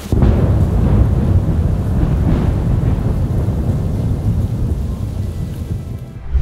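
A heavy thunderstorm: loud, continuous rolling thunder over steady rain, with the rumble swelling and fading across the whole stretch and no voices.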